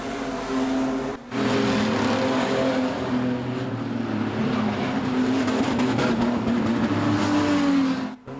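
A number 8 Lewin Tyres Falcon street stock race car runs steadily at the track, its engine droning loud and continuous for the whole stretch, with only a brief dip near the start.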